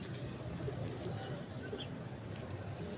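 A breeder pigeon coos softly in a loft of birds kept for sale, its low calls sitting inside a steady, fairly dense background hum throughout.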